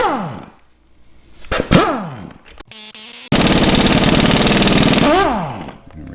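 A pneumatic impact gun hammers at a rusty bolt on the rear wheel of an 83 Honda Shadow 750 motorcycle, giving short loud bursts and then one long sustained rattling burst, with air-tool whines rising and falling between bursts.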